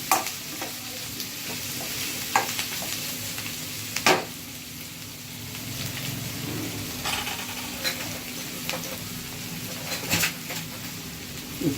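Onions fry in a pan for chicken curry, a continuous close sizzle with repeated spatula scrapes and knocks against the pan at irregular intervals, no one speaking.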